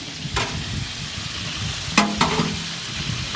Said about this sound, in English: We're gonna just let this fry up.